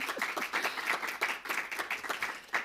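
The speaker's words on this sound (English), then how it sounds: "So Cal, you get a round of applause too." Applause breaks out in an audience at a university lecture, with many hands clapping in a lively, uneven patter that swells and fades over a few seconds.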